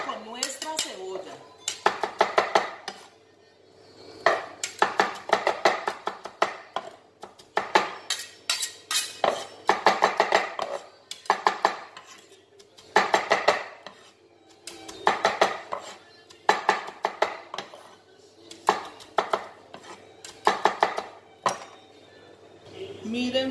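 An onion is chopped with a knife on a board, bursts of rapid, crisp knocking strokes in quick runs separated by short pauses, repeated close up for a long stretch.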